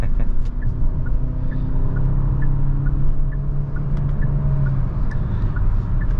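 A Genesis GV70 with a 2.5 turbocharged four-cylinder engine, heard from inside while driving: a steady low engine and road rumble with faint regular ticking over it, no talk.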